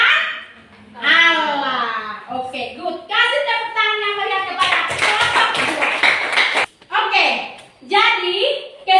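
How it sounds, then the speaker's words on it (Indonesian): Students clap for a class group in a school classroom, a burst of applause in the middle with children's voices and chatter before and after it. "Kasih tepuk tangan yang meriah kepada kelompok 2."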